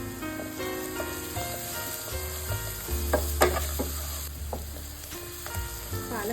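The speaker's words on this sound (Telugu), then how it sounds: "పాలకూర కూడా మంచిగా ఫ్రై అయిపోయిందండి" Spinach fries in oil for majjiga sambar, a bright, constant sizzle with occasional crackles, set against sustained musical tones in the background.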